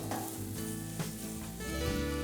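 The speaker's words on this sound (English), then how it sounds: "because we want to stir fry them" Vegetables stir-fry in butter in a pan, giving a steady close sizzle with occasional stirring scrapes and no voices.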